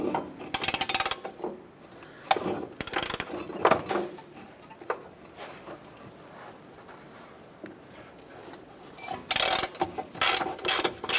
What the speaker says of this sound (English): Using a 17mm socket, I want to go ahead and remove our upper nut here.